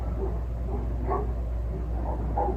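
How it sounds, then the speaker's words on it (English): Dogs bark faintly in the distance, a few scattered yips over a steady low hum, with no one speaking. "Dogs are barking."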